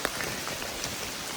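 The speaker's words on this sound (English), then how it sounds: "it's absolutely torrential rain, has been for the last few hours" Torrential rain in the Scottish Highlands beats steadily and densely on surfaces nearby, a constant loud hiss with scattered closer drops.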